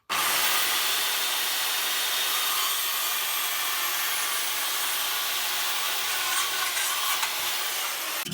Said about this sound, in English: just going to use the circular saw to cut through on the marks that I've done